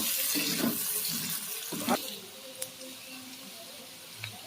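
Potatoes sliding into hot oil for a Bengali potato and giant prawn curry give off a bright, hissy sizzle that is strongest at first and then settles to a quieter, steady crackle, close and fairly soft.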